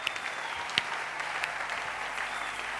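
A church congregation applauds to acclaim the Lord, a dense, sustained clapping from many hands with a few sharper claps standing out, filling the room at steady loudness.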